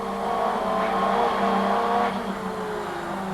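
Group A racing car driven on a track, its engine droning and revving with a hint of tire squeal, loud and steady throughout with no voices.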